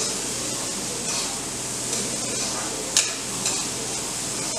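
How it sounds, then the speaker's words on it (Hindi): Onions sautéing in hot refined oil in a pan, a steady soft sizzle with occasional stirring scrapes, close and fairly quiet with no talk. "प्याज को हम सॉटे करेंगे।"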